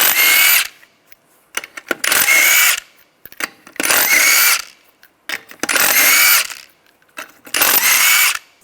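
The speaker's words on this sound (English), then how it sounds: "take the lug nuts off" A power impact tool with a 19mm socket spins lug nuts off a 2005-2007 Ford Five Hundred wheel in five loud, close bursts of about a second each, separated by short gaps of rattling and clinking.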